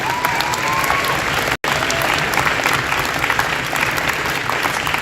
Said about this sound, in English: So I want to give a big clap out to our referees here.